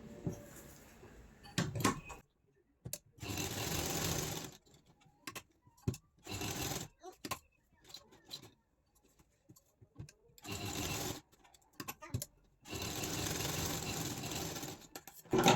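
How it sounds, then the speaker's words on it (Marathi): A sewing machine stitches lining fabric onto a canvas neckline design. It whirs loudly in several long, steady runs separated by short gaps with light handling clicks. "सेम त्याच पद्धतीने मी दुसऱ्या भागाला सुद्धा इथे शिलाई मारून घेतेय"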